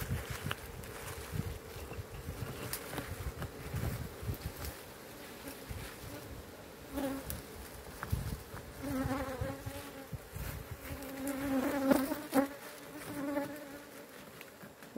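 A swarm of bees buzzes around a nest tucked in a rock crevice outdoors, a dense continuous drone with individual insects zipping close past the microphone, rising louder toward the end.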